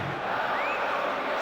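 A dense, steady roar of a stadium crowd in the PES 2014 football game, with a rising whistle or whoop over the continuous cheering and no commentary.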